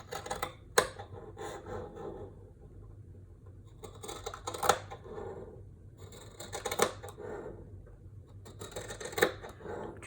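Scissors or a rotary cutter slice through quilt fabric for a landscape lap quilt, crisp close cutting bursts coming in a few separate runs with quiet handling pauses between them.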